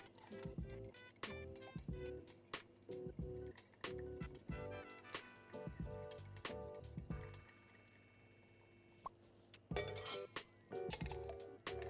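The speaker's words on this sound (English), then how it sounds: "Then we're gonna stir it with a big block of ice to give a proper dilution." Cocktail stirred with a big block of ice in a glass, rapid repeated clinks and knocks of ice against glass with a faint liquid swirl, close and fairly quiet, pausing briefly before resuming.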